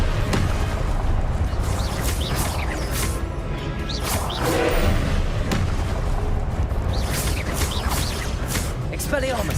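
Repeated Confringo blasting-spell explosions in the game Hogwarts Legacy, a steady run of booming impacts and whooshes, loud and busy, with a voice casting spells throughout.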